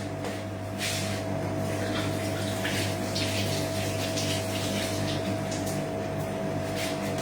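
Tiny food items rinsed under steady running tap water, a continuous close splashing and hiss with a low pump-like hum underneath, unbroken throughout.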